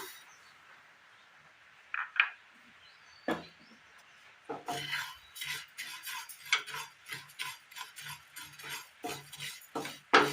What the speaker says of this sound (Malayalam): അടുപ്പത്തൊരു പാൻ വെച്ച് കൊടുത്ത് എള്ളിട്ട് കൊടുക്കാം.